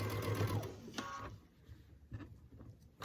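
A sewing machine stitches down a seam on an heirloom quilt top in a quick whirring run, then stops, leaving a few soft handling clicks and bumps in a quiet room.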